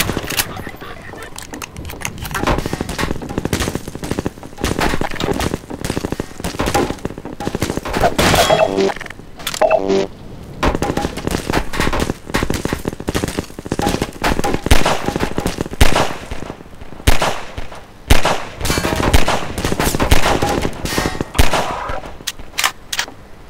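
Dense Half-Life 2 gunfire with shotgun blasts, rapid repeated loud shots in bursts and flurries, close and dominant with game sounds between volleys and no speech.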